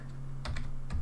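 Quick keystrokes on a computer keyboard, a few crisp clicks in a brief burst, close and fairly quiet.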